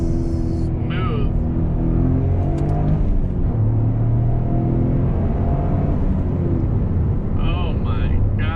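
A Toyota GR Corolla with a manual transmission rev-matches on a downshift, the engine drone rising and falling under road and cabin noise while someone talks excitedly over it.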